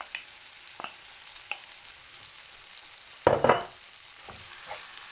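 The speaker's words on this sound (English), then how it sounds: "And you're gonna give it a stir." Ackee and saltfish fry in a pan with a low steady sizzle. A spoon gives scattered stirring scrapes and a louder stir partway through.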